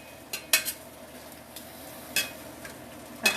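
Hamburger meat browning in a pan for chili, soft sizzle under sharp clinks and scrapes of a utensil against the pan, several irregular taps, close and moderately quiet, no talking.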